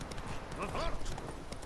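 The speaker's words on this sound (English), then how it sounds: "This horse is so annoying." Roach, a horse in The Witcher 3, gallops with rapid, steady clip-clop hoofbeats under continuous talk, with a brief whinny in the middle.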